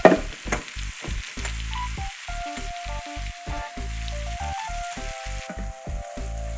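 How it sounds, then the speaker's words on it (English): Garlic, onion and pepper sizzle steadily in hot butter in a pan, a loud continuous frying hiss broken by rhythmic clacks of stirring and a few clanks, with no talk. "Got the hot butter, vegetables, we're gonna throw it in."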